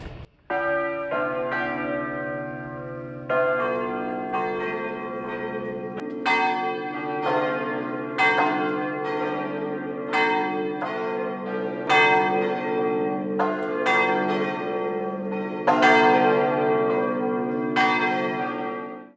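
Church bells in Tuscany peal loudly and continuously, overlapping strikes ringing out in a rich, reverberant clang with no talking.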